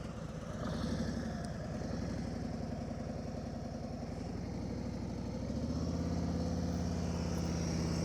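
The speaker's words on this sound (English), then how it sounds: "Just listen to the engine." Motorcycle engine idling at low speed during a slow-speed riding practice session, a steady low rumble that holds throughout, slightly louder near the end.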